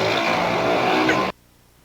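A motor vehicle, likely a motorcycle, roars loudly past outside for just over a second, then cuts off abruptly to near silence.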